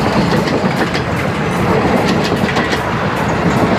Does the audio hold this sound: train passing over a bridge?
yes